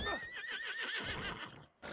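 A horse in a video game lets out a long wavering whinny, near and fairly loud, with hoof thuds and game sounds beneath, ending in a brief silence.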